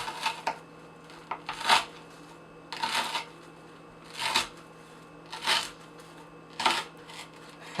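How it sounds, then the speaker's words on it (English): A cKc APFK Mini knife with an O-1 steel blade push-cuts through rope, producing six crisp, crunchy fibrous bursts at even intervals over a quiet background. "first full push cut of this rope."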